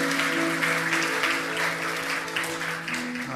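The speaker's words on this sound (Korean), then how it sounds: "나올 때는 박수로 맞이해 주시기를 바랍니다" Sustained applause from a church congregation fills the room, steady and fairly loud, with a low musical hum beneath it.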